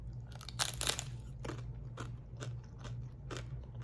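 Crunchy bites and chewing of chunky homemade garden salsa, a series of crisp close-up crunches repeating at an irregular pace over a low steady hum, with no talking.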